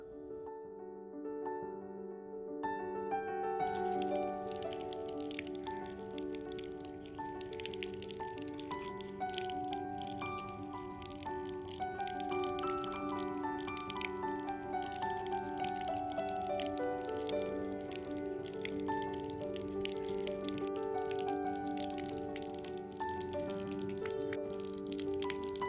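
Water running and dripping steadily as three fresh aloe vera leaves are rinsed, a continuous close splashing trickle with no talk.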